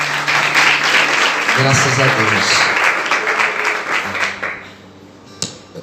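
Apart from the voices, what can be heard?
church congregation applauding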